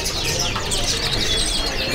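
Canaries at a crowded bird-market stall chirp and tweet in quick high twitters over a steady bed of market noise, with other birds and faint crowd murmur mixed in.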